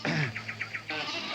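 Cartoon sheep bleating: a short series of about five quick wavering bleats, close and fairly loud, framed by other bleat-like animal calls and no speech.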